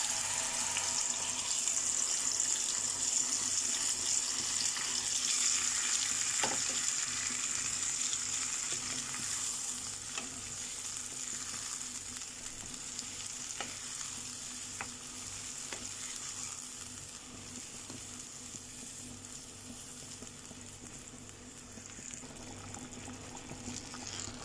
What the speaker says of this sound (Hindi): ये घी हमारा गर्म हो गया, देखिए घी मेल्ट हो गया। तो इसमें अब हम मैरिनेट ये मटन ऐड कर देंगे।